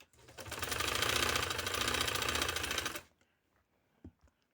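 Sewing machine stitching a shirt coat collar, a fast even whirring run of about three seconds that stops abruptly, then quiet with a couple of small clicks.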